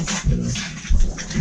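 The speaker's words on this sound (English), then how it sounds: "But if you hear snarling and growling in the back, that's what's going on." Puppies play in the background, giving short bursts of snarling and growling with a couple of rougher peaks. The sounds are fairly close and come in uneven rhythm.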